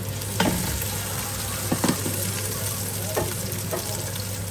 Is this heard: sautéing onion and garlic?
yes